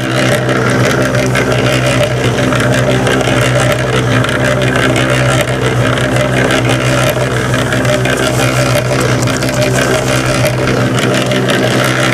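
A cement mixer churns a batch of wax and sandy dirt, its engine a loud, steady, close rumble that drones on without a break, with no one speaking.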